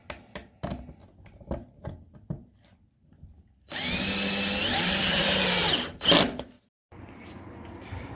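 Cordless drill with a clutch driving screws into a wooden electric meter cupboard, heard as a loud sustained whirring run of about two seconds, then a short burst and a steadier lower run, after scattered knocks and handling taps.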